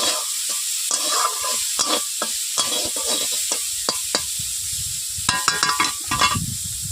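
Mixed vegetables (potato, eggplant and bitter gourd) are stirred with a spatula in a sizzling pan after salting, a run of repeated scraping strokes over a constant hiss of frying, close and clear without any voices.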